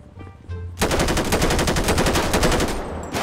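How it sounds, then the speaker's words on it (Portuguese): Rapid automatic gunfire in GTA 5 roleplay, a loud, close, continuous burst of shots after a short quieter lead-in with softer pops. "Acertei o tiro em alguns ali."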